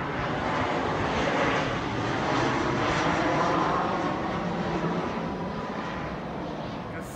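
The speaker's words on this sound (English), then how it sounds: "Flight 2757 from DEN, Denver International Airport, Rocky Mountain Heights, Colorado." An airliner arriving from Denver International Airport passes nearby on approach to Chicago Midway, heard from a residential front yard. Its broad, steady jet roar stays loud throughout and fades only slightly toward the end.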